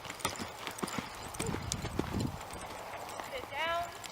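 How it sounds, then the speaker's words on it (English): Horse hooves clip-clopping on a working horse as it turns and picks up a lope, a steady run of close hoof beats with a rider's voice talking over parts and a brief whinny-like call near the end. "I'll turn her, and then I'll get up and ask her to lope"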